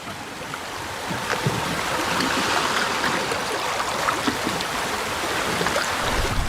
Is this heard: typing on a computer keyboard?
no